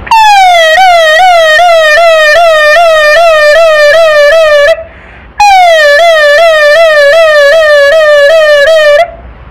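A man mimics a police siren with his voice, a loud wailing rise-and-fall tone that cycles quickly in two long bursts with a short breath between them.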